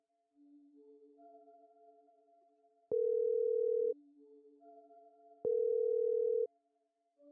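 A telephone call tone plays while a call is being placed: two steady, loud tones, each lasting about a second and separated by a pause, over quiet background music.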